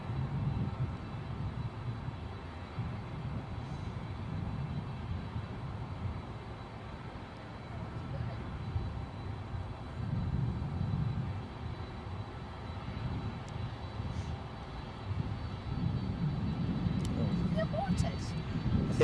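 A steady, distant rumble of aircraft engines during an aborted takeoff at Edinburgh airport, swelling slightly over the span, heard outdoors with people talking near the microphone.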